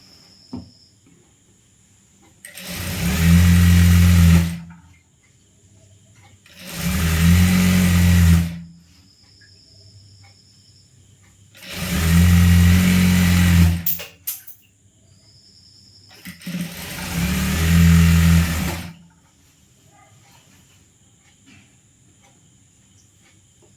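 A sewing machine stitches a churidhar in four loud, steady runs of several seconds each, separated by short pauses, with no talking.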